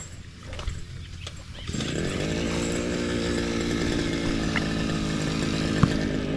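A repaired grass cutter engine, fixed with a new piston ring and piston, starts up and settles into a steady, loud, close two-stroke drone after a brief quieter stretch, with no talk over it.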